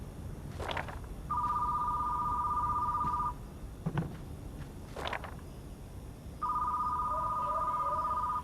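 A telephone rings in a store-management video game, two electronic ring bursts a few seconds apart amid footsteps and light game noises.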